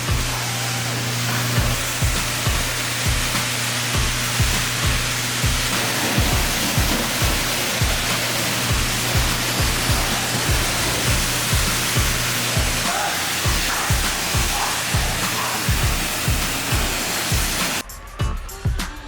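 A car is washed with a water spray, a loud continuous broadband hiss of spraying water with rhythmic pulsing bursts and a steady hum, cutting off near the end.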